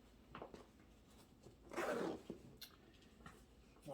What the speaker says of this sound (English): Zip it all up.